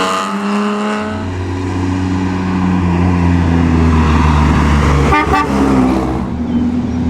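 A classic Lancia Aurelia passes close by during the Mille Miglia road race, its engine note rising loud and steady over several seconds with a horn-like honk near the end, then fading away.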